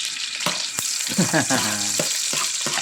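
A small amount of garlic fries in a pan for ginisang labanos with ground pork, with a loud steady sizzle broken by a few stirring scrapes and clinks.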